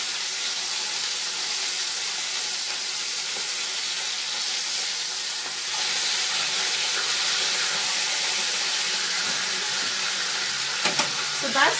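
A thick piece of meat fries in a pan during Sunday dinner cooking, giving a steady, close, hissing sizzle that grows a little louder midway, with a few faint clinks near the end.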